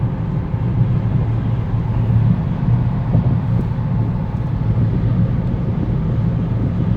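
Inside the cabin of a BMW F30 with its muffler deleted, driving in comfort mode: a steady low road and engine drone, fairly loud and even throughout, with no voices.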